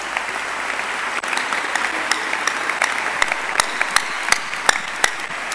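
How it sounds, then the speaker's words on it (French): A crowd claps steadily at the close of a motivational talk for young people, a continuous wash of applause with a few sharp individual claps ringing out above it. "Applaudissez, applaudissez encore"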